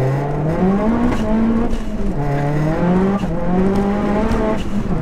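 A 480bhp big-turbo Seat Leon Cupra R with a fully forged engine pulls hard in second gear, a loud close rising engine note that climbs, dips with shifts in load and climbs again.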